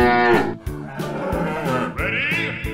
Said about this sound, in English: Buffalo.